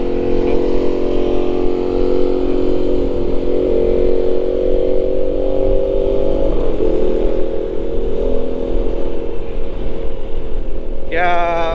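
A Honda Click 125i v3 scooter engine runs steadily nearby with a constant droning hum, while someone talks over it throughout.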